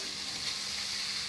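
Noodles stirred in a frying pan, making a soft, even sizzle and hiss that continues throughout at low volume.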